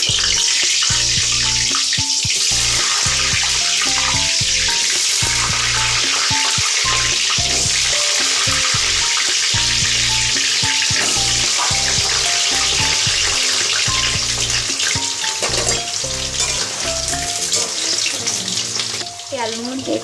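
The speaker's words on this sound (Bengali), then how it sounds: "এবার আলুগুলো ছেড়ে দেবো তেলের মধ্যে।" Potatoes dropped into hot oil for a Bengali chicken kosha, giving a loud, steady hiss and crackle of frying that runs unbroken, close up, with a tonal hum in the background.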